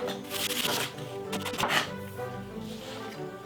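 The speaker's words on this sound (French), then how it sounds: "Oignon rouge en lamelles et en dés." Knife dicing a halved red onion on a board, rapid rhythmic chopping taps close by, some bursts denser than others, with faint kitchen background.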